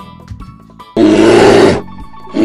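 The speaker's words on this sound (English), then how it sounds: "White polar bear." A white polar bear lets out a single loud, harsh roar that lasts under a second, breaking sharply into quieter surroundings.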